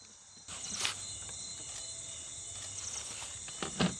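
Crickets chirp at night on an eco farm in Benin, a steady high trill with a few louder nearby chirps over faint background noise and occasional soft rustles, no talking.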